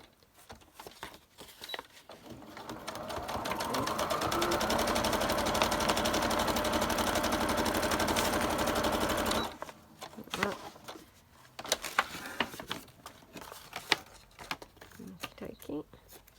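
Sewing machine stitching lace down the edge of a junk journal page, running as one sustained loud buzz for about seven seconds, then stopping, followed by scattered handling clicks and rustles nearby.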